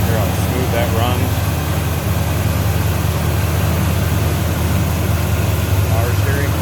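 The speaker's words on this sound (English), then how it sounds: "Hear how smooth that runs." A 1970 Chevrolet El Camino V8 idles steadily up close with the hood open, a smooth continuous low rumble with a faint whine, while someone talks over it intermittently.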